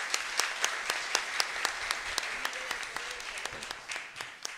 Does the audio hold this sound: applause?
yes